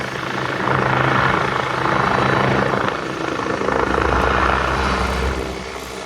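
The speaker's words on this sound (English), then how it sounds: "Helicopter" A helicopter flies at a military vehicle and firepower show, its loud engine roar and rotor beat swelling and easing as it passes close by, heard alone without talk.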